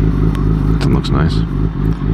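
A motorcycle engine running while being ridden, a loud steady low rumble with slight revving changes, heard close up under wind noise.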